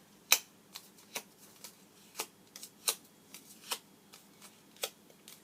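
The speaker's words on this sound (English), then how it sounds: "we're going to take our bone folder and we're going to curl them up" Paper flower petals are curled with a bone folder for a birthday card, making a series of sharp, brief scraping swipes with short pauses between them, close and fairly quiet, with no voice.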